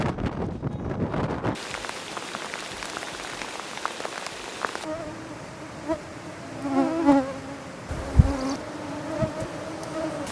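A swarm of mosquitoes whines in Denali National Park, a thin steady buzzing close around, joined partway by sharper, louder insect hums that swell and fade against soft background hiss; no one speaks.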